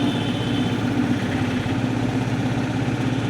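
A motorcycle engine idles steadily throughout, a continuous low throbbing hum at a constant, fairly close level with no speech.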